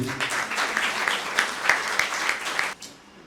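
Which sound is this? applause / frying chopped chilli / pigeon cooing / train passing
applause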